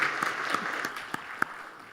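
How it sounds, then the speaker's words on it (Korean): A church congregation at a Sunday afternoon service claps for an ordained deacon. A handful of distinct, scattered claps ring out over a quiet, hushed room, faint and fairly distant. "우리 오리옥 안수 집사를 위해서 한 번 더 박수로 격려하겠습니다."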